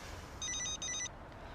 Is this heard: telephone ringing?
yes